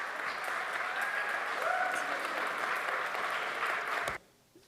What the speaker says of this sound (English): they're clapping because he was being dramatic and fun